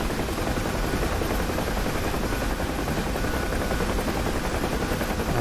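A helicopter flies steadily during an airborne troop mission in a festive rescue video game, its dense rotor thrum and engine roar constant and loud throughout, with no talking.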